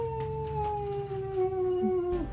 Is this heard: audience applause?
no